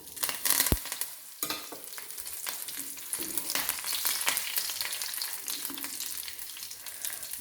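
Dried red chillies frying with mustard seeds in coconut oil for a pineapple pachadi, a continuous close sizzle with crackles and stirring scrapes and no talk.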